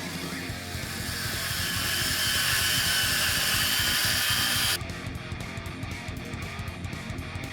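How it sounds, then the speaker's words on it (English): An angle grinder working rivets on a 1973-79 Ford F100 truck frame, a loud continuous high whine with harsh grinding, dropping abruptly to a rougher, lower buzz near the end. "Pretty much you're going to be grinding rivets for hours."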